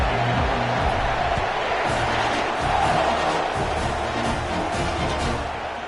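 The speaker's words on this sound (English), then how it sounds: "This crowd bringing an ear-splitting welcome to their visitors." Stadium crowd in a college football video game, Texas A&M hosting Mississippi State at kickoff, roaring as a steady, dense wall of cheering that stays loud throughout.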